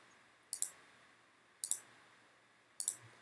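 Three crisp computer mouse clicks spaced about a second apart, each a sharp double-tap, close and alone over a faint room hum while map regions are added in a WordPress geo-mapping plugin.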